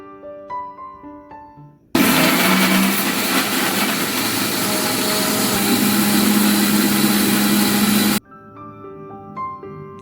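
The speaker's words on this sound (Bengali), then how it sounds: "আদা রসুনটা এমনি মিক্সিতে পেস্ট করে নেব" An electric kitchen mixer grinder whirs loudly and steadily for about six seconds while blending ginger and garlic into a paste, starting and stopping abruptly between quieter stretches of background noise.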